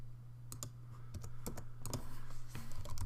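Typing on a computer keyboard while building a WordPress page layout, with scattered clicky keystrokes in short irregular bursts over a steady low hum, close and fairly quiet.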